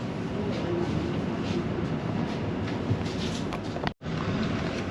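A London Overground Windrush line train rumbles past nearby over a bridge with a steady, rolling mechanical roar, briefly cut by a moment of silence near the end.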